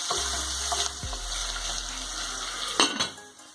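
Fish and bacon stirred and frying in a pan give a steady close sizzle with a few scraping and clattering touches, then a sharp clank near the end, with no talking.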